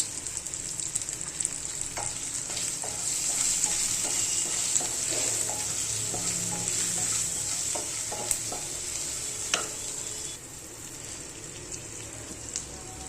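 Mutton masala and garlic-coconut powder fry in hot oil, giving a steady bright sizzle with intermittent stirring scrapes and clicks close by, quieting slightly near the end.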